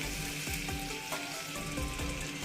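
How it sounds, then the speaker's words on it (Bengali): Pabda fish in mustard-poppy sauce cooking in a pan with a little water added, a steady close sizzle and bubbling, with a few scrapes of stirring. "দেখো একটু ফুটতে দিচ্ছি"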